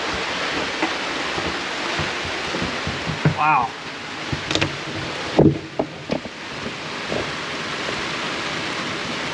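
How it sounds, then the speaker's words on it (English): Heavy rain pours in a dense, steady roar with a few knocks and splashes nearby, near a boat at Bora Bora; a voice briefly exclaims partway through. "It's raining like crazy."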